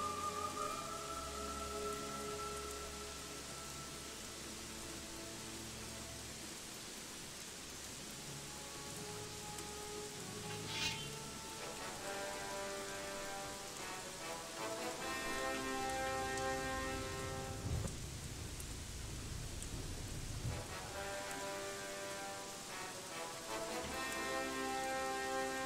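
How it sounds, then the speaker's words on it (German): Steady rain in the video game Gothic 3, a dense continuous patter of drops on surfaces running throughout, with game music tones and effects layered over it. "Oh, nee, es regnet."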